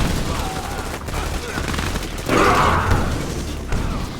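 Dense rattling gunfire from units in the real-time strategy game Command and Conquer 3 Tiberium Wars runs steadily throughout, with a louder volley swelling near the middle amid game noise.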